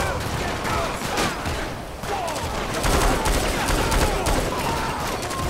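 Dense, rapid gunfire in GTA 5 during a shootout at a sheriff's office. The shots come in near-continuous loud bursts with chaotic noise throughout.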